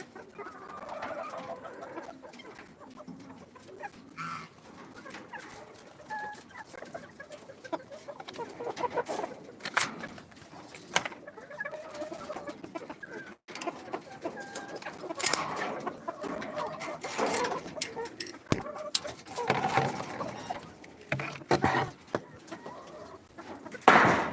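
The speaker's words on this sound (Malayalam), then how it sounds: "ഇതിൽ രണ്ട് പൂവനും രണ്ട് പിടക്കോഴിയും ഉണ്ട്" Two roosters and two hens cluck and call intermittently in a backyard coop, close and fairly loud, with occasional human voices and bird sounds mixed in.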